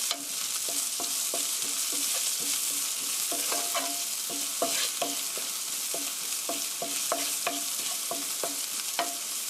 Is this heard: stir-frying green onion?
yes